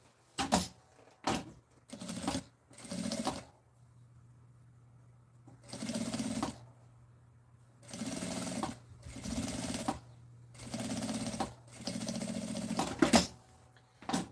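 A sewing machine stitches the fabric lining of a bag in repeated short bursts, some quick and some a second or so long, separated by quiet pauses over a faint steady hum.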